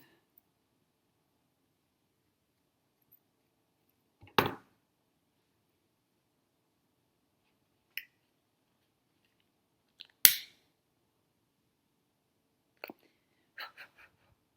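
Scissors trim the cord end of a handmade starfish bracelet in near silence, with a few sharp isolated snips spaced seconds apart and small faint clicks between them.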